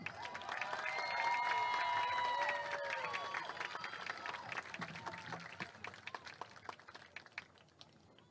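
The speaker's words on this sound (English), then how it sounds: "Let's get one more round of applause for Queen Allison Lohr and King Cooper Ellis." Spectators at a Glenpool high school football homecoming cheer and applaud for the queen and king, with shrill whoops swelling early, then clapping that gradually thins and fades.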